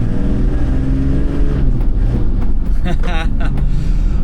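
A Toyota Land Cruiser Troopy engine runs with a deep, loud, close rumble throughout, and a voice is briefly heard over it near the end.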